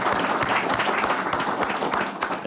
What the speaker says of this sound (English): Let's give a big round of applause to John and Kathy